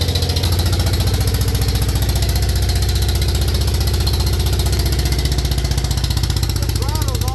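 A 1973 Wheel Horse tractor engine runs steadily at idle with a loud, close, rhythmic putter and knock that holds for the whole stretch, no one talking over it.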